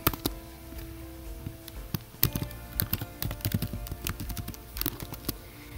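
Password being typed on a computer keyboard, a quick irregular patter of close, crisp key clicks with brief pauses between bursts.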